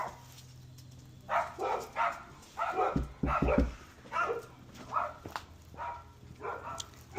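A puppy barks and whimpers at a doorway, with short yips and whiny cries in a loose, uneven rhythm and a brief thumping patch midway; close and moderate in level.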